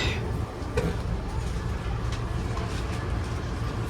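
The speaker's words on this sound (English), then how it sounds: "There's a Siemens train going by" A steady low rumble of a Via Rail passenger train passing close by in Toronto, with faint rattling and brief squeaks over the continuous roar.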